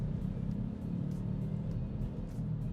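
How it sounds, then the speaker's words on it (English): Tire drone inside a 2024 Volkswagen Tharu 300 TSI SEL DSG driving on a road: a steady, low, humming rumble fills the cabin without a break, with faint higher ticks from the road surface. "So there is a bit of droning from the tires."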